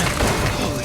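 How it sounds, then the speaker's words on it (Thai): A loud, dense explosion roars through a short burst of Uncharted 4 video game action, a continuous crashing blast with no clean attack, sitting close and heavy for under a second. "เสียงระเบิด"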